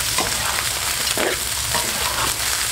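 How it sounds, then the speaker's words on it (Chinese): Chicken feet stir-frying in a wok with ginger slices and oil, a loud continuous sizzle broken by repeated scraping strokes of the spatula, close and steady. "放入鸡爪，一起煸炒，"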